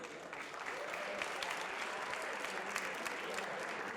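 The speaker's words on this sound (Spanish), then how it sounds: "un aplauso gigante" A packed audience at a Nerd Nite science talk night in Santiago gives a steady, dense round of applause that holds evenly from start to finish.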